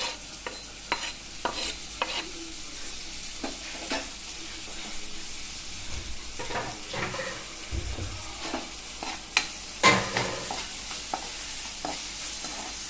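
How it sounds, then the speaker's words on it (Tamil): Chopped tomatoes go into a hot pan for homemade noodles, giving a soft sizzle with scattered scrapes and stirring clatter, a few sharper knocks standing out over the low frying hiss. "அடுத்தது கட் பண்ணி வச்சுருக்க தக்காளி ஆட் பண்ணிக்கிறோம்."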